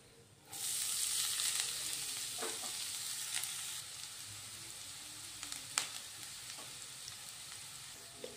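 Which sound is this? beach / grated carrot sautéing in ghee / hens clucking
grated carrot sautéing in ghee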